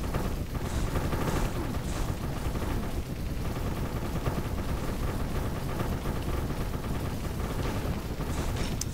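Dense, continuous video-game gunfire rattles loudly against a boss, rapid shots blending into an unbroken barrage with no pauses.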